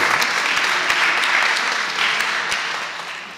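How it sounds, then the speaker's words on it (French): Congregation applause during a Sunday worship service in the Protestant temple of Chêne-Bougeries: a steady, dense patter of many hands clapping that fills the whole stretch and tapers slightly at the end. "On peut l'applaudir, hein, le papa, ça s'applaudit."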